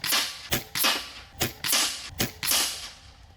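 An Air Venturi Avenger Bullpup Gen 2 PCP air rifle fires about five sharp, close cracks in quick succession, each shot followed by a short metallic ring, over outdoor background noise.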